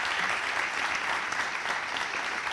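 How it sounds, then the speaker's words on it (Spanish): An audience claps steadily for an interview guest, a dense, even burst of applause filling the room at close range. "Un aplauso para él."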